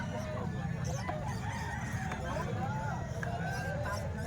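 Stag roosters crow and cluck among other chickens at a busy poultry market, several overlapping crows rising over constant crowd babble and nearby talk.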